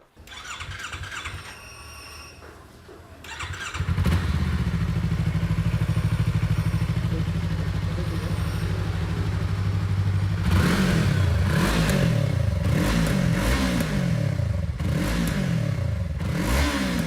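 A Yamaha R3 motorcycle engine with an Akrapovič aftermarket exhaust starts and idles with a deep, throaty exhaust rumble, then revs repeatedly in sharp bursts, loud and close.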